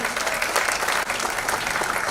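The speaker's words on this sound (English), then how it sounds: "A big round of applause, ladies and gentlemen." Steady applause from an audience at a celebrity promotional event, dense and continuous across the whole stretch with no speech over it.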